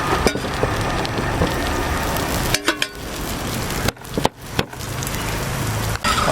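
Oil crackling and sizzling under a paratta on a hot griddle, a loud dense continuous frying hiss with a few brief dips and pops, close up, no talk.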